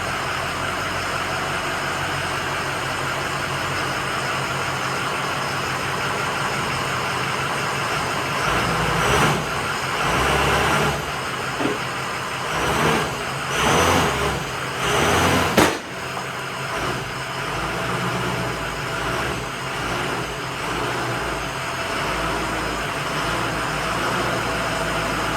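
Pickup truck engine running as it drives up onto a frame machine in a body shop, a steady idle broken by several louder revving bursts and clunks midway before settling back to a constant hum, with no talk.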